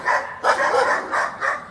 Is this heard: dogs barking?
yes